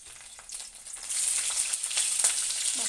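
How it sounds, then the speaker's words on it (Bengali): Cauliflower frying in oil in a pan, a steady close hissing sizzle that swells after the first second and carries on evenly with light crackle, no voices. "ফুলকপিটা ভেজে নিই।"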